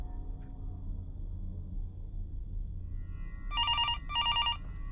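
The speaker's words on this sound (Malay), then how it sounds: "Kau ada telefon masuk" A telephone rings with an incoming call late at night, two bursts of bright electronic trilling near the end after a stretch of low background hum, fairly close and clear with no talk.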